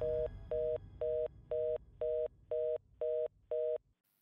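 Telephone call-ended tone after a call is cut off: eight evenly spaced, identical beeps, each about a quarter second long, sounding clearly on their own with no talk over them.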